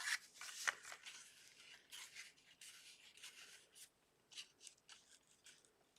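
Scissors snip through card stock while a sentiment notecard is trimmed out, giving a close series of crisp, papery cuts in quick irregular bursts with no talking.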